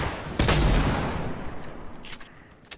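Shotgun blasts in Fortnite, a sharp loud report followed by a decaying burst of gunfire and echoing shots fading into softer, more distant pops.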